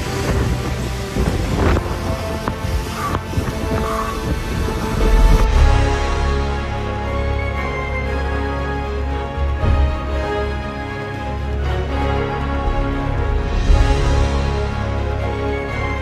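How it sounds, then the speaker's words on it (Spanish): The cold Molinos waterfall in Villamaría, Caldas, roars as a steady, powerful rush of water, loud and close with gusty wind noise throughout. "que es impresionante esta cascada"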